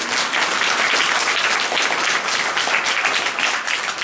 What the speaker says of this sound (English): So applause for her for reading something else.